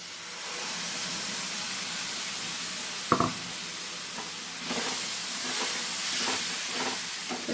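Mustard paste tipped into a hot pan of frying spices for a Bengali bhola fish curry, steady oily sizzle with a sudden spatter burst, then continued hissing and soft stirring clatters, close up with no talk.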